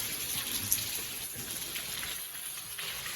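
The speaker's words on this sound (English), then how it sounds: "this water is still coming out pretty good" Water pouring steadily out of a hose hooked to drained pipe during a 2 1/2-inch butterfly valve change, a continuous hissing splash with no talk.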